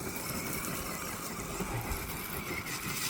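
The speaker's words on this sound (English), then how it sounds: "Okay, we're gonna go full throttle." A radio-controlled car on Boom Racing Aggressor tires runs at full throttle, a steady high electric whine with broadband buzz held at constant level throughout, moderately close, no talk.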